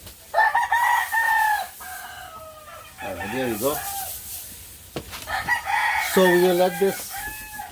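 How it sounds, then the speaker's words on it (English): Roosters crow repeatedly at close range in Suriname, several long rising-and-falling calls with clucking between them, while a person speaks briefly over them near the end. "Here, roosters crow 24 hours,"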